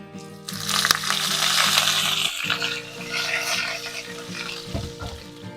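Curry leaves hit hot tempering oil already popping with mustard and sesame seeds, bursting into a loud, close sizzle that crackles on and gradually eases, with a sharp metallic clink near the start.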